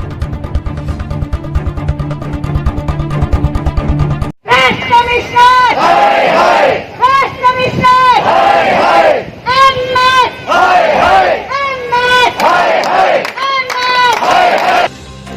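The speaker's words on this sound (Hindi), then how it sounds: "जोर जोर से नारे लगाते ये लोग किसी भीड़ का हिस्सा नहीं हैं" Protesting health workers chant slogans loudly in rhythmic bursts, a crowd of voices rising and falling together in repeated calls. A low background hum comes before the chanting begins.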